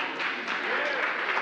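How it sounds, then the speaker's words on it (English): Festival audience applauding a discussion panel, a brief steady wash of clapping at moderate distance with some voices underneath. "A big, big hand clap for our panel."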